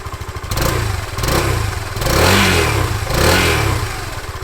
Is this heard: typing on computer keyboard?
no